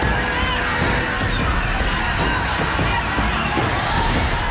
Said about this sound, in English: A massive crowd assembling in Mumbai's Bandra on Tuesday amid the rising coronavirus toll